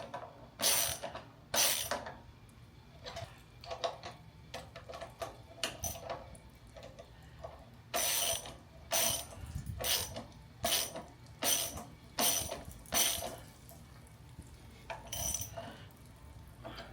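Socket wrench ratcheting while tightening a nut on a rear axle bolt, a series of sharp metallic clicks and clanks in irregular bursts, close and fairly quiet, with no talking.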